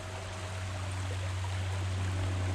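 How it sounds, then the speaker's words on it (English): Cabin Creek flows near the Susquehanna River, a soft, steady babble of moving water heard close by, with a low constant hum running beneath it. "This creek, Cabin Creek here, down by the Susquehanna River."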